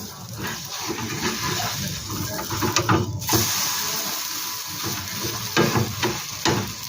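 Semolina snack with vegetables frying in a covered pan over lowered heat, a steady close sizzle with soft scattered pops and clinks throughout.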